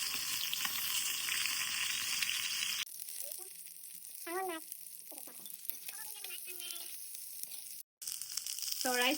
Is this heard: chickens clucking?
no